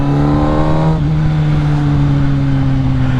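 A big motorcycle's engine drones steadily while riding, loud and close throughout, with a rising pitch early on that settles into an even cruising tone and constant wind rush.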